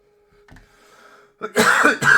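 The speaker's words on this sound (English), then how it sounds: "Sorry, just coughed my guts up." One person coughs hard and close, a faint throat rumble leading into two loud harsh bursts, indoors at a computer.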